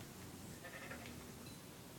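Faint sheep bleating from the Minecraft video game over a steady background hiss, a brief soft call near the middle of a quiet two-second stretch.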